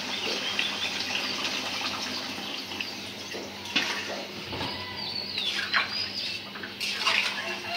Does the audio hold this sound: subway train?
no